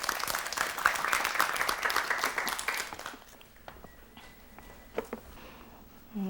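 A studio audience at a Korean television storytelling show claps in a dense burst for about three seconds, then the applause thins to a few scattered faint claps.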